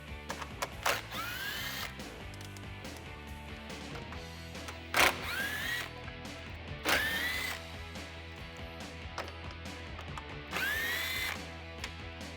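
Grille bolts, 10mm, come off a Ford F150 with a power tool in several short whirring bursts, spread out over background clatter and nearby mechanical noise.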